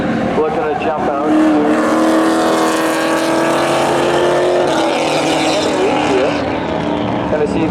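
A Chevy and a Pontiac roar down the strip in a spectator drag race at a Memorial Day thrill show, a loud continuous engine drone throughout with an announcer talking over it.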